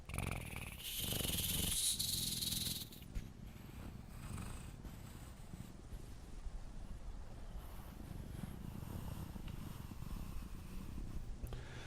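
A voice imitates a purr with a rolled tongue, making a soft, low, continuous rattling flutter that follows a brief breathy burst.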